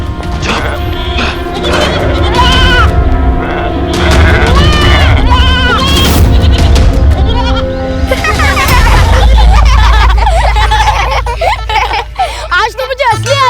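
Goats bleat repeatedly in loud, wavering cries close by, overlapping with crashing thuds and shouted voices, then a deep rumbling rush as the calls continue near the end.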